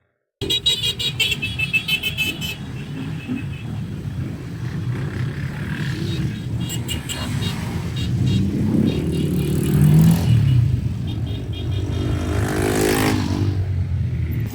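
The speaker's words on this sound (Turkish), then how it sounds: "meslek lisesi öğrencileri motosikletleriyle şehir merkezinden başlayarak Gölköy Tabiat Parkı'na kadar kontrollü şekilde toplu sürüş gerçekleştirdi" A group of motorcycles ridden by vocational high school students in a controlled ride from a city centre to Gölköy Nature Park; steady, dense engine rumble from several bikes passing close, growing slightly louder midway, with no talk.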